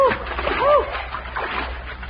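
A horse named Sunshine falls into a river during a race, making a short, splashy burst of water with whistling and shouting voices around it.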